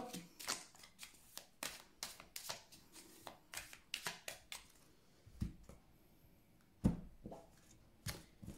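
Oracle cards being cut and shuffled by hand, a run of crisp, quick card riffles and taps up close, then sparser flicks and slaps after a pause, with no voice.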